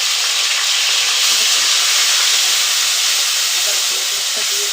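Ginger garlic paste sizzles loudly with onions in hot oil, a dense continuous hiss close up that holds steady throughout, with no talking.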